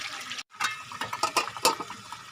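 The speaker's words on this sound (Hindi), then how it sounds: "ये अस यखनी पा छोड़ी है।" Broth being poured into a pot of cooked beef trotters, a close, continuous splashing pour with small gurgling surges after a brief pause at the start.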